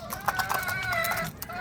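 A rooster clucks in a backyard among young hens, with short repeated clucks close by under someone talking.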